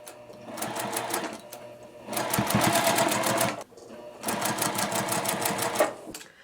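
A sewing machine stitches quilt block rows in three bursts of rapid, close mechanical chatter, separated by brief pauses.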